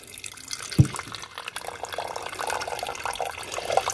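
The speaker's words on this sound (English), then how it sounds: "just pour these in and put some water in" Fresh rainwater is poured into a small beaker, a brief splash followed by a steady close trickle and light liquid gurgling that runs on for a few seconds.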